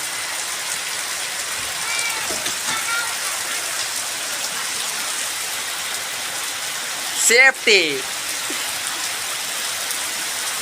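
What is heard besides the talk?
heavy rain falling after peanut sowing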